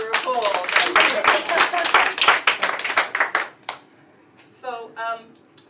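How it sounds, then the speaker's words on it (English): A small group gives a short round of applause, brisk clapping that fades out, with voices talking over and after it. "And a little round of applause, even though we were full."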